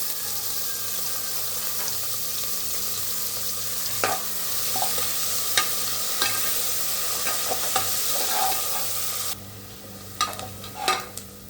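Sliced onions sautéing in a pan for tomato rice with cinnamon and cloves, a steady close sizzle with scattered clicks of a spoon scraping and stirring, no voices.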